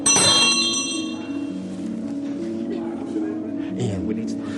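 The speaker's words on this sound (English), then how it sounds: "Do you want to ring the bell?" A bell is struck once with a bright ring that hangs and slowly fades over several seconds, while people talk nearby throughout.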